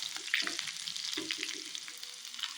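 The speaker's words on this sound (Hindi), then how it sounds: "ये अपनी प्याज डल गई है, तो प्याज डाल रहे हैं" Onion drops into hot oil in a pan of spiced vegetable curry and fries with a loud, continuous close sizzle, with stirring scrapes throughout.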